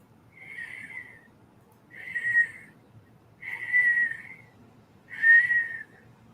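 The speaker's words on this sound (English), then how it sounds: "Just a faint whistle." Four soft whistled notes, each about a second long, separated by short pauses against a quiet background.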